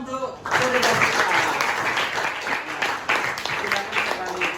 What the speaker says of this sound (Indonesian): Tepuk tangan untuk Cherry dan Tika.